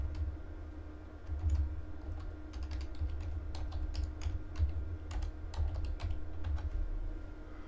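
Steady typing on a computer keyboard as an email address is entered, a quick irregular run of close, crisp key clicks with a low hum beneath and no talking.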